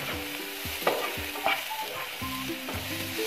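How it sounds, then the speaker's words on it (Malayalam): Onions fry with a little salt in a pan while a spoon scrapes and stirs them in repeated strokes, over a steady close sizzle. "നന്നായിട്ടൊന്ന് മിക്സാക്കി എടുക്കണം."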